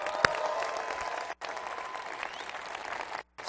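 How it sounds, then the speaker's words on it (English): Conference audience of thousands at an opening plenary breaks into sustained applause, dense steady clapping across the room with two brief cuts to silence. "Give yourself a round of applause."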